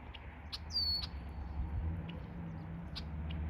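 Songbirds chirp outdoors in short, sparse calls with one brief whistled glide near the start, quiet and somewhat distant over a low steady background rumble.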